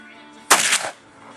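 A single loud, close blast from a Thompson Center Triumph .50 caliber inline muzzleloader, aimed at a metal target up on a hill, with a short decaying rumble afterward.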